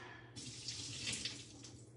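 Water pours out of a freshly opened can of water chestnuts into a sink, a short steady trickle and splash close by, starting abruptly and running for a couple of seconds.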